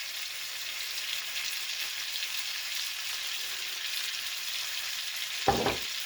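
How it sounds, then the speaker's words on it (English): Pork chops seasoned with garlic powder and pepper sear in a lidded pan, giving a steady, even sizzle that holds level throughout, with a brief louder clatter near the end. "put my lid on and let it sear for a few minutes on that side"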